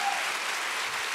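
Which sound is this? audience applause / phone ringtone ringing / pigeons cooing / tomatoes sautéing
audience applause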